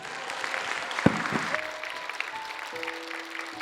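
An audience claps at a homeschool academy graduation ceremony held alongside an end-of-semester worship service. The applause is moderate and spread out, with one sharp clap standing out, and faint tones ring beneath it.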